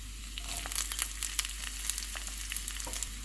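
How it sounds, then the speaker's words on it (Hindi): Green chillies sizzle and crackle in hot oil with fried garlic, a steady close frying hiss with scattered sharp pops, no voices. "लहसुन फ्राई हो गया, इसमें सब्ज़ मिर्चें डालेंगे"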